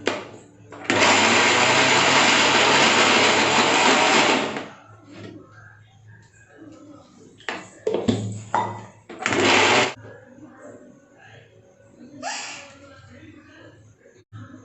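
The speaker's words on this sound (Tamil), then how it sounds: "மில்க் ஆட் பண்ணி அரைச்சி எடுத்துட்டேன்." A mixer grinder blends powdered chocolate biscuits with milk into cake batter, giving a loud, steady whirring grind for about three and a half seconds, then a shorter burst later, with people talking nearby between runs.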